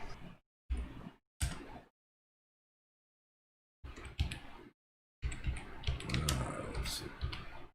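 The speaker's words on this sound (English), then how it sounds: "One-handed typing." One-handed typing on a computer keyboard comes in short separate bursts of clicking keys, broken by silent pauses and ending in a longer, denser run of taps.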